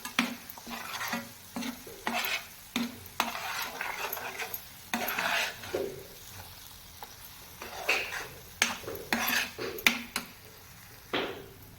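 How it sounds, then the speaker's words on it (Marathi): Spice masala being stirred and sautéed in oil in a pan for a Konkani-style prawn masala, with repeated scraping strokes of a spoon against the pan over a low, steady sizzle, close and moderately loud. "व्यवस्थित परतून घेते आता हे सर्व मसाले जे आहेत ते आपण व्यवस्थित मिक्स करून घेऊया"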